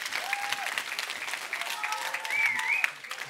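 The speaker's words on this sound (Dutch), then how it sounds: "Ja, geef ook even een applaus aan Frits." Applause from a children's university audience in Tilburg greeting a fire brigade speaker, steady dense clapping at moderate level with a faint whistle-like tone and some voices murmuring underneath.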